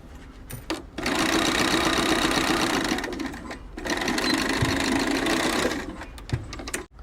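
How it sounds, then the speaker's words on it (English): A sewing machine stitches slowly along a seam of a self-binding minky blanket backed with double gauze, running in two steady, loud whirring bursts separated by a short pause, with a few small clicks at the end. "And then you're just going to sew very slowly, take your time"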